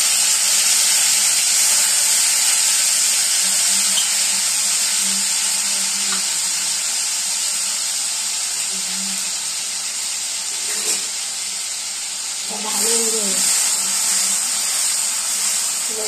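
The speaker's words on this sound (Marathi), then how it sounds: "गॅसवर 2 मिनिटं फ्राय होऊ देऊया।" Ground spice paste fries on a gas stove for vangi bhaji, giving a steady, loud hiss and sizzle that runs unbroken throughout, with a few faint clinks near the end.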